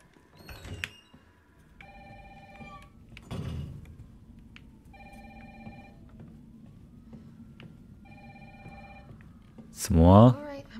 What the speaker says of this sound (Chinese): 电话，电话，电话。